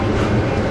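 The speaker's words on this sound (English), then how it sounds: "that's the North Line train." A Metra North Line commuter train passing nearby gives a brief, loud, dense rumbling roar, heard from aboard another train.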